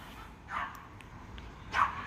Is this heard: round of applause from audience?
no